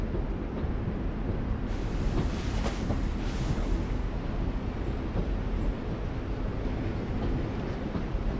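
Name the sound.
train sound in The Walking Dead video game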